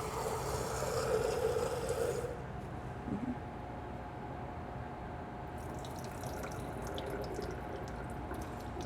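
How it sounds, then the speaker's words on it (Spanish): Running tap water rinses a pretreated anthurium explant in a sink. A steady, fairly close splashing stream stops after about two seconds, followed by quieter background and faint drips. "Lo vamos a enjuagar para quitarle el exceso de agroquímico."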